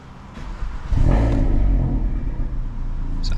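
A 400 BHP Volkswagen Golf R revs hard with the windows down, the engine swelling sharply after a quiet start into a loud, sustained rasp that holds close and strong to the end.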